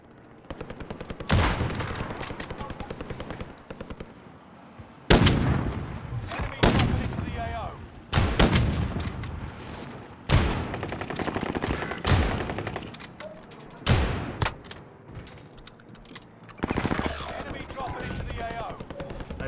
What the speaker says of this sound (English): God, that's a big gun.